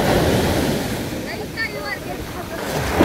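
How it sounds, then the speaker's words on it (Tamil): Surf on the Bay of Bengal at Silver Beach, Cuddalore: a continuous wash of waves with a roaring rush and wind buffeting the microphone, rising again near the end, no clear speech. "அலைகள்லாம் பார்த்துட்ருக்கோம்."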